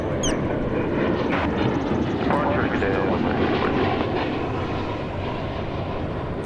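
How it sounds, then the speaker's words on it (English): American Airlines Airbus A319 airliner departing DFW Airport, a broad sustained engine roar at a distance, steady and loud, with talk over it. "That Airbus A319 in silhouette is American Airlines Flight 1766 off to El Paso."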